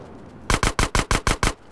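Enemy machine gun fire in GTA San Andreas, a burst of seven evenly spaced loud shots in quick rhythm, close and punchy, following a brief quieter lead-in.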